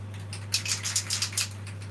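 Aerosol can spraying stabilising lacquer in a series of short, quick hissing bursts, close and moderate, over a steady low electrical hum.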